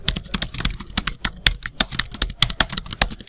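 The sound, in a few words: typing a name on a computer keyboard in MS Word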